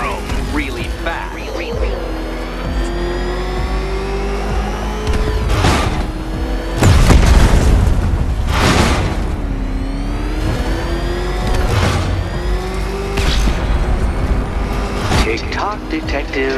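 Batmobile engine revving and accelerating during a Riddler race challenge in Batman Arkham Knight, a loud continuous roar with rising and falling whine and surges of speed, mixed with game music and effects under spoken dialogue.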